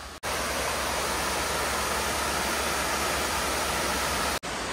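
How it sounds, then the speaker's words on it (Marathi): Water rushing at a hidden waterfall near Chirma Devi in Thane, a steady broadband roar heard throughout from a hillside trail, with brief dropouts near the start and end and no talking. "पाण्याचा आवाज तुम्हाला येत असेल"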